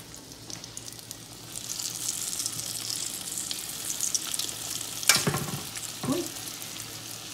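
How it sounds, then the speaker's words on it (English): Battered shrimp sizzle steadily in hot oil, with a couple of sharp clinks and a bubbling burst partway through; no talking. "I just put one shrimp in the oil to check out how hot it is"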